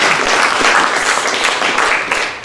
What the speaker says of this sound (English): round of applause and let's start.